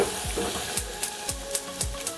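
Onions and garlic sizzle softly in a frying pan while a utensil scrapes through them in a steady rhythm of about one stroke every quarter second.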